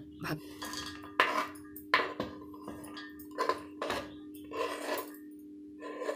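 A pan is placed down among dishes in a home kitchen during Indian cooking, giving several sharp metallic clinks and clatters of cookware against cookware, close and fairly loud, with no talking.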